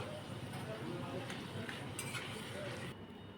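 Boiled taro stalks frying and being stirred in hot oil with ginger paste and spices, a steady close sizzle with faint utensil scrapes throughout.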